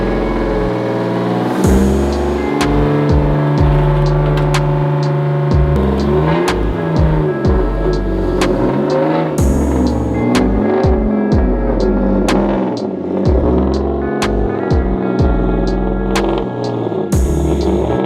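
A Porsche with a Subaru engine swap runs hard on a dyno, its loud throbbing engine note droning and pulsing in repeated surges with sharp clanks over a steady roar, no voices.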